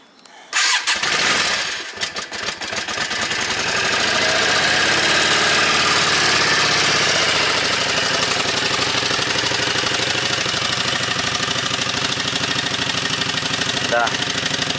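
A motorcycle with a choke pulled out is started on a morning outdoors, catching after brief cranking and settling into a loud, steady idle that runs close and continuous for the rest of the clip.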